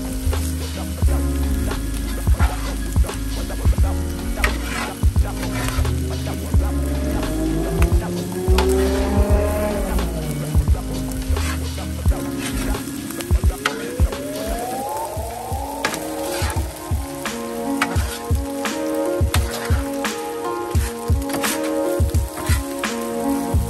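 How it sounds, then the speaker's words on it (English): Shrimp fried rice being mixed on a Blackstone griddle, with constant sizzling under rhythmic metal spatula scrapes and clacks against the flat-top, loud and close. "I'm going to mix everything up until everything is, until the rice is nice and coated"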